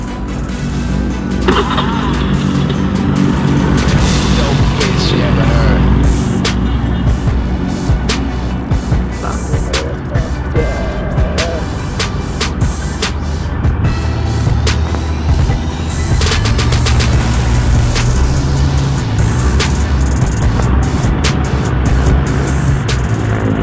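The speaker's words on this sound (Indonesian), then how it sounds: "Setelah kita melakukan servis, kita juga harus menguji kendaraan apakah ada perbedaan saat setelah kita menservis." A Honda motorcycle on a test ride after a tune-up, its engine droning loud and continuous throughout with steady road and wind noise, no clear breaks.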